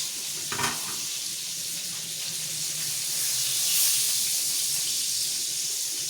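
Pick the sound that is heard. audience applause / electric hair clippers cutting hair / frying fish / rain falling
frying fish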